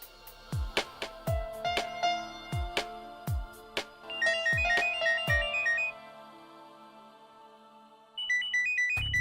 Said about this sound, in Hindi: मानवी, एक इंपॉर्टेंट फोन है, मैं अभी आता हूं।